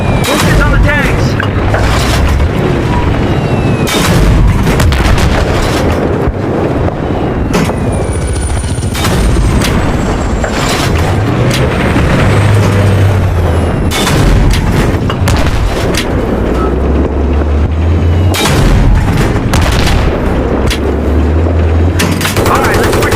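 Battlefield 3 tank battle: heavy, continuous gunfire with repeated booming tank cannon blasts and explosions, dense and loud throughout, with shouted commands over the combat.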